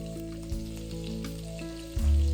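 Chopped ginger, garlic and green chilli sizzling in hot oil in a pan, a steady close frying hiss with short bursts as the ingredients go in, alone with no talk.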